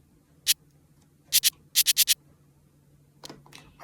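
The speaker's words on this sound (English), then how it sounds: "So I've got a shaker." A shaker percussion sample for a grime beat plays as a few crisp, bright hits: one alone, a close pair, then a quick run of four, with a softer rustle at the end and no talking.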